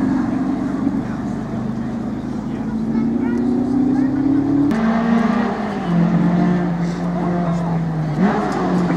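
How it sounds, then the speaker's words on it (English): A Ford Mustang racing car engine drones loudly and steadily, its pitch climbing slowly, then dropping at a gear change around the middle and rising again, with a voice talking faintly underneath. "The Mustang comes through again."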